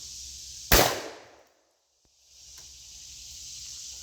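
A single sharp shot from a break-action gun aimed at a bucket about 25 to 30 yards away outdoors, a loud crack that decays over half a second into a brief silence, then faint ambient hiss returns.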